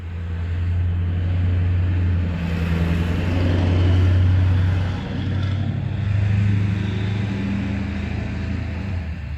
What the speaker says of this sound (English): Let that truck go by